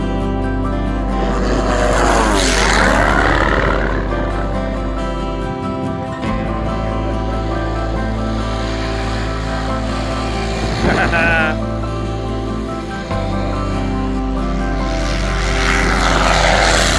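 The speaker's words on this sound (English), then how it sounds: "Here goes the pacer with the landing gear." Piper Pacer light propeller plane passing at a grass-roots fly-in, its engine drone loud and steady throughout with a swelling, Doppler-like sweep as it goes by, people talking over it.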